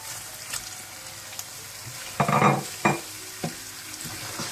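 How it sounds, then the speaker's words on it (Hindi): Boneless chicken frying in tomato puree in a pan, with a low steady sizzle and a few louder bursts of stirring and scraping partway through, close up and with no talk. "टमाटो प्यूरी को अच्छी तरह से भूनने के बाद आप इसमें बोनलेस चिकन डाल दें"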